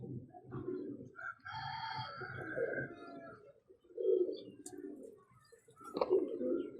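A female pigeon cooing in soft, low repeated bursts close by, with other bird calls and faint background sounds between the coos.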